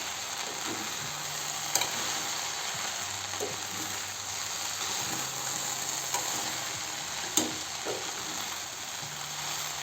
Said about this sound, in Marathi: दोन मिनिट असं शिजायला ठेवू अधूनमधून फिरवत राहायचं